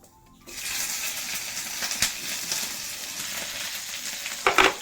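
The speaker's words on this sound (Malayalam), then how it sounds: "നമ്മുടെ വെണ്ടയ്ക്ക് ആദ്യം ഇട്ടൊന്ന് വഴറ്റിയെടുക്കാം" Okra sautéing in a hot pan, with a steady bright sizzle of frying that starts after a brief quiet moment and continues throughout, with a few sharper crackles and stirring noises near the end.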